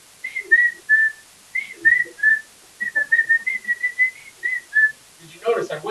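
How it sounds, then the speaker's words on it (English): A person whistles a short tune of clear sustained notes in steady phrases, close and fairly loud, with a brief burst of other sound at the very end. "Did you notice I whistled?"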